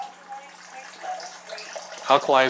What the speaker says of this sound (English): Let's go ahead and get the water going, and this is alkalized